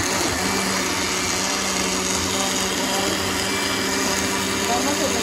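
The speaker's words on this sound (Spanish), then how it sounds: "Vamos a empezar a licuar." A kitchen blender whirs steadily while puréeing a quick salsa for shrimp a la diabla made with ketchup, its loud, constant motor drone filling the entire span without a break.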